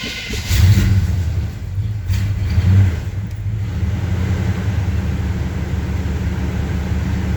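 A 1975 Chevy C10 pickup with a 350 V8 that has sat unused for a while turns over and fires, revving in a couple of surges before settling into a steady, loud rumbling idle up close.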